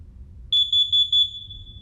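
Four short, shrill electronic beeps in a steady rhythm, a wall-mounted battery-powered carbon monoxide detector test chirping over a low background rumble.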